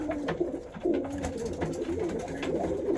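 Red Sheffield pigeons coo in a loft, soft low throaty rolling calls repeating and overlapping at close range over a murmur of background noise.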